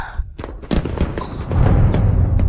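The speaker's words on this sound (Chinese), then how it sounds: "你不喜欢烟花吗？" Fireworks burst outside at night, a quick run of sharp cracks and pops that settles into a dense, rumbling crackle, fairly loud and close.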